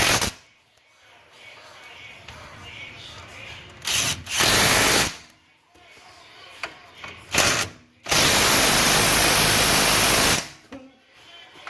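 A power tool tightens the steering rack bolts on an 1988-91 Honda Civic from underneath, firing in loud, harsh bursts of a few seconds each, the longest near the end, with quieter working noise between bursts.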